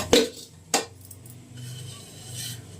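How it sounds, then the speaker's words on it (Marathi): A strainer or colander is set onto a cooking pot with two sharp metallic clinks, followed by quieter kitchen rustling and trickling water draining into the pot below. "असं ठेवणार आहे मी या पातेल्यावर म्हणजे खाली पाणी नितळून पडतं सगळं।"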